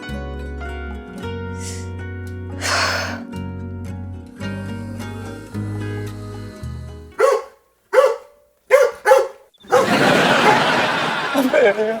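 Street dogs in a lane bark in a handful of sharp, loud bursts after a stretch of dramatic music, followed by a burst of noisy commotion.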